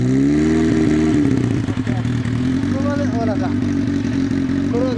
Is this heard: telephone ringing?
no